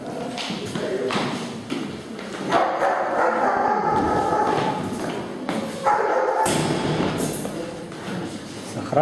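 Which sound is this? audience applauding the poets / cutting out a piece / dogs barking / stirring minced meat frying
dogs barking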